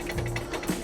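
An oven dial clicking as it is turned to the bake setting, a short close run of ratcheting clicks lasting under a second.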